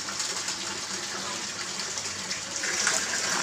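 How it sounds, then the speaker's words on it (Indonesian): Steady water gushes from an opened tap fed by a storage tank at a koi pond, a continuous broadband rush that grows slightly louder toward the end, with no talk over it. "Tinggal buka keran."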